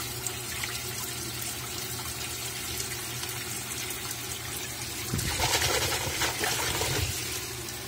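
A Consul 13 kg Maxi Economia washing machine (CWE13AB) fills with water, a steady close rushing and trickling that swells louder for a couple of seconds near the end before settling back.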